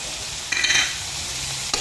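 Chopped tomato goes into a hot frying pan and is stirred, a steady close sizzle with scraping stir strokes around the middle and a brief clatter near the end, no talk.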